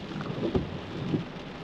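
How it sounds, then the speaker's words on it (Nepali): Heavy rain drumming on a parked car near Muriwai beach, heard from inside as a steady close patter with a couple of louder thumps, no talk. "अनएक्सपेक्टेडली एकदम ठुलो पानी पर्यो अनि यहाँ गाडी भित्रै बसिरा छु"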